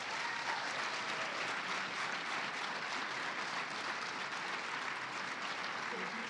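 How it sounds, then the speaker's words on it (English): An audience at a Memorial Day event applauds essay contest winners, with a steady, fairly soft wash of clapping from a room of people that continues evenly for about six seconds. "Let's give a round of applause to all of our essay contest winners."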